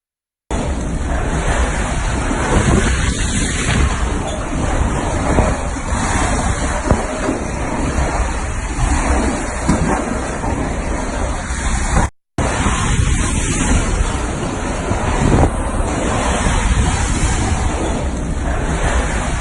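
Floodwater and gusting wind during Hurricane Dorian, a loud continuous roar of rushing, surging water and buffeting wind noise that runs almost unbroken, with a brief cut near the middle.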